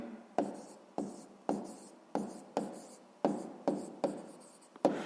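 Pen writing by hand on paper while solving a sixth-grade math exercise: a steady run of distinct scratchy strokes, about eight in five seconds, each with a sharp onset and fading tail, close and fairly quiet, with no talking.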